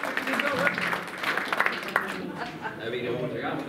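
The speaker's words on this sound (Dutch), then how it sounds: "Doe dan een klappen voor die mevrouw." A small crowd at a senior club's Sinterklaas gathering claps for a woman, a brief patter of applause mixed with voices talking and calling out over it.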